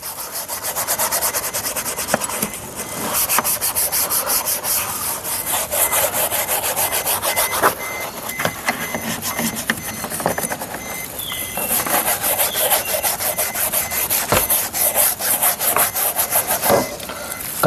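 An old brush works all-purpose cleaner over a car surface in vigorous, continuous scrubbing, a dense close bristly rubbing with occasional sharper scrapes and no talk.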